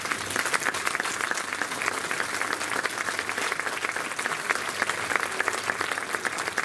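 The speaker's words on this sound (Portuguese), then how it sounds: "Isso notou-se com as palmas do povo de Carregosa e Ordós." Theatre audience from Carregosa and Ordós applauding after a performance, dense steady clapping throughout without pause, loud and close, with no clear speech.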